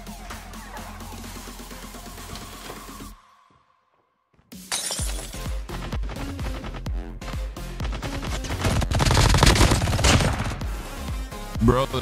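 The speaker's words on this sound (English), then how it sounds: "Bro, this gun shreds." Rapid automatic gunfire with shattering impacts from a gun in the mobile shooter Call of Duty: Mobile, dense bursts before and after a brief silent gap, loud and close with game effects layered throughout.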